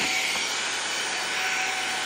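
A Shark HV301 Rocket ultra light corded bagless vacuum cleaner runs at full power, a loud steady high-pitched whine and airy roar with no pauses.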